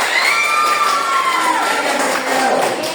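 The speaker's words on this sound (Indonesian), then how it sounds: "Berikan tepuk tangan dong." A group of students cheers and shouts loudly together during a group counselling session in class, with sustained, dense crowd voices throughout.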